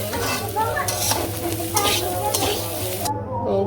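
Cumin and ginger paste sizzles loudly in a hot pan while being stirred, a steady close frying hiss with scraping strokes, no talking.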